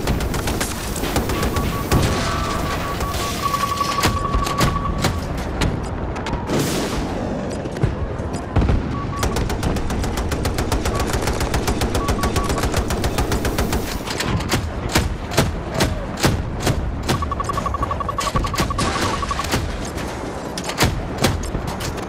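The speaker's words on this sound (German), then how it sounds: "Wir werden beschossen!" Rapid gunfire in the video game Battlefield 2042, with sustained bursts of automatic fire and scattered louder shots and booms, loud and continuous throughout.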